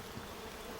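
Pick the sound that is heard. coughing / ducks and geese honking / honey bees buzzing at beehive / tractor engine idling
honey bees buzzing at beehive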